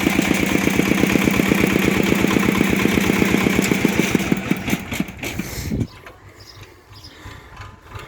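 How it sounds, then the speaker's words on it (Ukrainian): Converted 8 hp walk-behind tractor with a floating gearbox, its engine chugging loudly and rhythmically up close, then cutting off abruptly to leave quiet surroundings. "Переробили мотоблока в 8 кінських сил, мототрактор з плаваючою коробкою."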